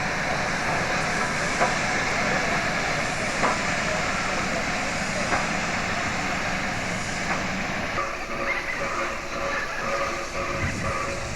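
Victorian R class steam locomotive standing at Wolseley station coupled to South Australian cars, a steady broad hiss and rumble running throughout with faint clanks, moderately loud and continuous.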